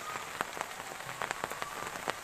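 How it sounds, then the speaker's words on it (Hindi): Light rain falling steadily in the village of Gandal, Bamanwas, Rajasthan, with a soft continuous hiss and scattered close raindrop taps; no speech. "हल्की हल्की बारिश हो रही है"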